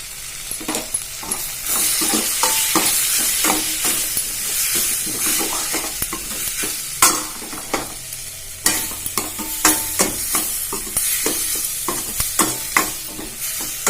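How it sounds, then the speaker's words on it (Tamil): Mixed vegetables sautéing in a pan with soy sauce and chilli sauce for a leftover rice dish, a steady close sizzle broken by sharp scraping stirs that come faster toward the end, with no voices. "இது ஒரு 10 நிமிஷத்துக்கு வதங்கட்டும்"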